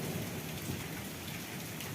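Small hailstones falling in a hailstorm with gusty wind make a dense, steady hiss and patter, a continuous wash of rattling impacts with no voices.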